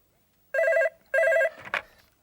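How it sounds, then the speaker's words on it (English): An old-style telephone bell rings in two loud, close bursts with a short gap between them, followed by a clattering sound as the receiver is picked up, with no talking. "Yeah, I'll just answer the phone."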